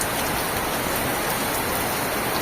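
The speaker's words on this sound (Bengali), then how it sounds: "মুষলধারে পুরো বৃষ্টি হচ্ছে।" Heavy downpour pouring steadily onto a street opposite a temple in Teghoria, a dense, continuous hiss of rain with no break and no voices over it.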